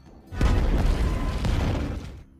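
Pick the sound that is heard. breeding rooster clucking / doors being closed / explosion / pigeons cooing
explosion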